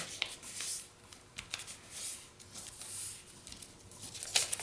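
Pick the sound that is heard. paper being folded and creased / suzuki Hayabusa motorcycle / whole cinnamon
paper being folded and creased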